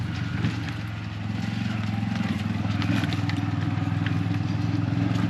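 Tuk-tuk on a highway near the Bolivia–Peru border, its small engine giving a steady rhythmic drone with road rumble and wind, continuous and close throughout.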